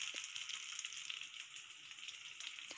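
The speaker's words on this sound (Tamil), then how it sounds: "நல்லா வதக்குங்க" Tomatoes and chilies sizzling in oil in a pan for garlic dosai, a continuous soft crackle and hiss with scattered pops, close but quiet, with no talking.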